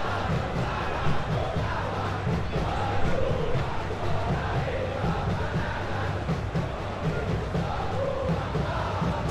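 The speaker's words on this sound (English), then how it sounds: "Crowd appreciates good football all round there." Stadium crowd in the football video game PES 2021 during a Persija Jakarta versus Bali United match: a steady, dense roar of chanting and cheering fans, loud and continuous throughout without speech.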